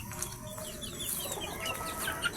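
A fighting rooster kept in a cage after a derby clucks softly and repeatedly at close range over a low background hum, with other fowl chirping faintly around it.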